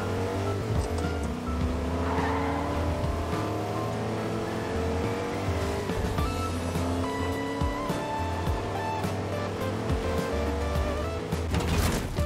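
A car engine hums and revs continuously while driving in Fortnite, with shifting tones and occasional tire noise, loud and steady throughout with no talk.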